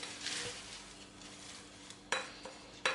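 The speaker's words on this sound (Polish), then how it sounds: "do groszku dodajemy orzechy i należy masę wymieszać" A thick no-bake chocolate cake mixture with nuts is mixed in a bowl, giving faint, soft scraping followed by a few sharper clinks of the utensil against the bowl near the end.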